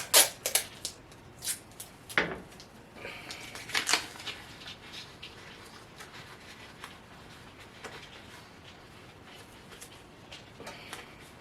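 Paper being handled and taped for a DTF print on cotton, with crisp crinkling and tape tearing sounds in a few sharp bursts early on, then softer rustling and handling noises continuing at close range.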